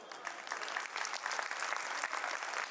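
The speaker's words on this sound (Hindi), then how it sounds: "एक तो ताली बजाओ" A seated audience at a lively talk claps together in a steady, even round of applause, faint and distant, with no speech over it.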